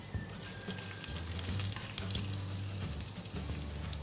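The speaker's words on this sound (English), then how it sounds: "when you fry garlic and ginger with the onion oil" Garlic and ginger fry in onion oil in a pan, giving a soft, continuous sizzle with crackling pops that stays fairly quiet and close, with no talking.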